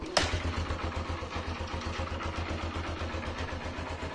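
A Honda CB 125F Twister motorcycle engine with 20,000 km catches with a sharp start, then settles into a rapid, even idle that chugs steadily nearby.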